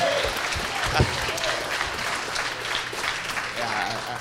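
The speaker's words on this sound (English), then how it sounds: "can we get a round of applause?" Wedding guests clap steadily for several seconds, a dense patter of hands with some voices mixed in underneath.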